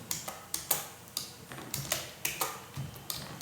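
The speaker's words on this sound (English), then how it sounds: "Now you start typing the text." Steady keyboard typing on a computer in drafting software, entering text for a drawing, with sharp evenly spaced keystrokes close up, moderately loud and heard alone without speech.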